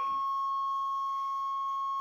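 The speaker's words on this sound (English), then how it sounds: "I wish I could find that buzzer and shush it up" A steady, high electronic warning tone drones without a break from the dashboard buzzer of a Chevrolet Suburban that sat for 15 years, with faint rustling underneath.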